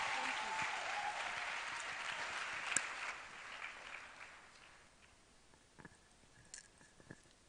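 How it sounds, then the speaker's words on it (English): An audience at a women and girls in cybersecurity event in Lilongwe applauds the returning panelists, with strong sustained clapping that gradually thins and fades to scattered claps. "Let's give our panelists a round of applause as they go back and sit down."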